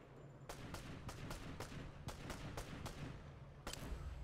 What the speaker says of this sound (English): Somebody was over here shooting at me.